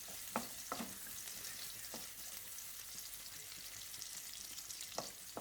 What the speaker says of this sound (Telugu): హై ఫ్లేమ్ మీద వేయించుకోవాలండి